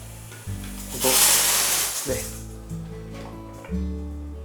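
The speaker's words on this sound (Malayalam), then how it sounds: "അപ്പോൾ ഫസ്റ്റ് വിസിൽ കഴിഞ്ഞു." A pressure cooker of steamed white chickpeas vents a loud burst of hissing steam from its first whistle, rising and fading over about a second while a person talks throughout.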